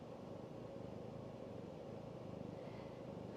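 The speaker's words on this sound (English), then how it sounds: "I imagine y'all can probably hear him purring." A soft, steady low purring rumble runs continuously at close range, quiet and even, with no voices present.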